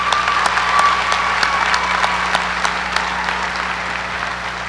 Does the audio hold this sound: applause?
yes